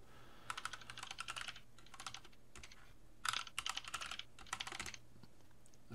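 Keys on a computer keyboard are tapped in quick bursts of clicks separated by short pauses, close and fairly quiet, with no talking.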